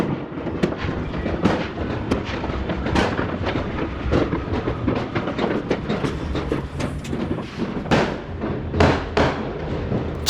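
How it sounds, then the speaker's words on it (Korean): New Year fireworks going off all around a neighbourhood near midnight in the Philippines, a dense, continuous barrage of overlapping bangs and crackles with sharp, louder bursts standing out from the steady roar, no voices. "이 동네 이곳저곳에서 동시다발적으로 폭죽을 쏘아댑니다."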